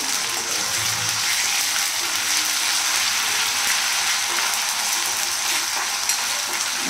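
Ginger garlic paste frying in a pan gives a loud, even sizzle that holds for several seconds, with faint stirring noises underneath.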